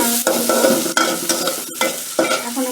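Whole garlic, cardamom, black pepper and cloves fry in mustard oil for a mutton curry, a loud close sizzle punctuated by repeated scraping stirs and clinks of a utensil against the pan.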